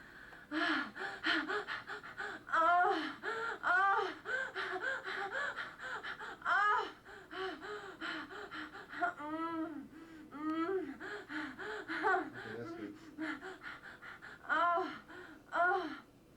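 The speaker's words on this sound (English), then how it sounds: "It's Heavy breathing and moaning, and it's take 15." Heavy breathing and moaning performed for a film sound take, with gasps, strained breaths and whimpering moans rising and falling continuously, close and intimate, with no other sounds.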